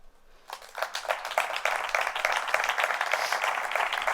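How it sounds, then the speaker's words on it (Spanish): An audience applauds at a tribute event for Julián Besteiro. The clapping starts softly, builds within half a second and holds dense and sustained, filling the hall. "Hagamos extensivo ese aplauso"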